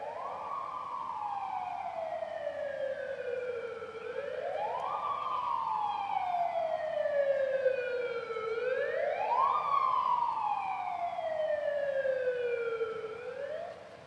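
An emergency rescue control vehicle arrives at a Korean safety drill scene with a wailing siren rising and falling in repeated sweeps, heard at moderate distance over a low background hum.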